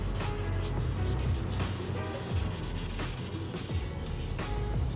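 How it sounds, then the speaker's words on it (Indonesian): Sandpaper rubbed by hand over a restored motorcycle part, repeated rasping back-and-forth strokes in a steady rhythm, close and fairly loud, with no talking. "Kalau untuk pengamplasan 800 sebaiknya tidak usah pakai sabun dulu."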